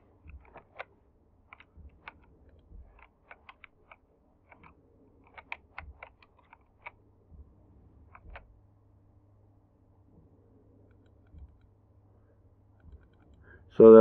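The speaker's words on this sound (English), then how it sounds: "My typing is not what it should be today." Sparse keyboard typing on a computer during a space-station building game session, light irregular clicks and short bursts spread out over time, close and fairly quiet, ending in a sudden loud thump.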